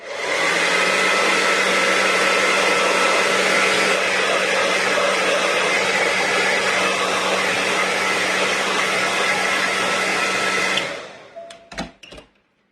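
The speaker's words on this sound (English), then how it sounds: "I might just give this a bit of a burst of heat." A heat tool blows hot air over a stencil project in a steady, loud, continuous roar that runs for about eleven seconds, then cuts off, followed by a few faint clicks.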